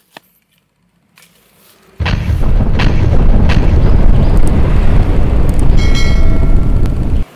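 A grenade blast in a toy Nerf-style gun play session, a sudden loud roar after near silence that holds as a dense, rumbling wash for several seconds.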